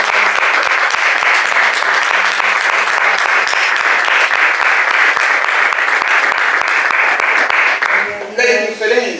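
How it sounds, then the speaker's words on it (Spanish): A church congregation at a Sunday service applauds loudly, a dense, sustained roar of clapping with voices mixed in that fades out near the end as speech takes over. "Dar un aplauso al Señor"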